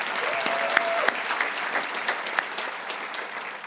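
A commencement ceremony crowd gives a brief, steady round of applause, moderately loud with a dense wash of clapping and a few sharper individual claps.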